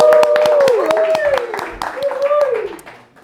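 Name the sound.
people clapping hands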